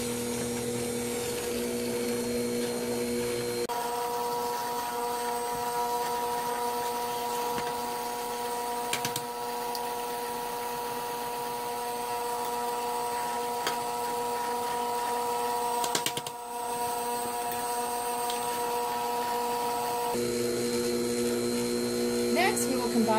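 An electric mixer blends eggs one at a time into gluten-free vanilla cupcake batter, giving a steady, sustained motor whine with tonal hum throughout, close and fairly loud, with the pitch shifting slightly near the start and end.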